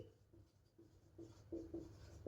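Chalk or pen scratches faintly across a board or paper during a Hindi-medium geography lesson, with soft, quiet strokes that grow denser toward the end.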